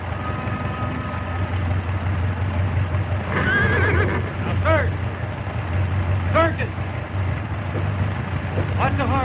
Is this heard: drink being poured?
no